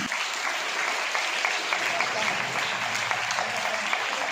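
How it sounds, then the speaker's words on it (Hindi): A school courtyard assembly at a prize ceremony for a culture knowledge exam breaks into applause for a student, a moderately distant, steady wash of many hands clapping throughout. "पूरा विद्यालय प्रांगण एक बार जोरदार तालियां बजाइए"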